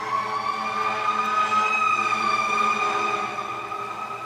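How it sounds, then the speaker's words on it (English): A fire truck siren wails continuously and loudly, its tone sweeping slowly with rich harmonics, filling the whole stretch with no voices over it. "We got the sirens going."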